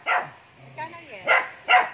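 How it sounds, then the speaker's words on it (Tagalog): A dog barks in short, loud bursts close by at a rural home, four sharp yelps spaced across two seconds, with faint voices in between. "Baka mamaya malabo ang usap natin dahil sa ingay nitong aso dito."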